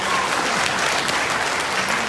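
A hall audience of retired missionary couples breaks into dense, continuous applause, loud and close, sustained throughout without a break.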